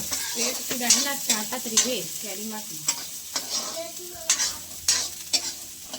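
Cumin and onion frying in a pan for village-style Maggi noodles, with a spoon scraping and stirring in repeated sharp strokes over a sizzle, while people talk nearby.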